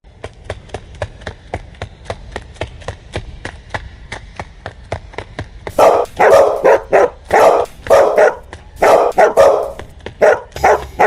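Several dogs bark loudly and in rapid bursts after a run of light, regular ticking, their overlapping barks close by and chasing someone who is out jogging.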